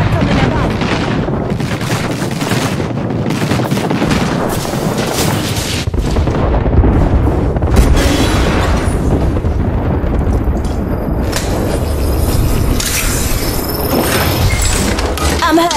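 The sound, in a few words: airstrike explosions in a video game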